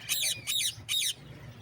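A pet parrot in a shop gives three harsh, loud squawks in quick succession close by, followed by a quiet pause.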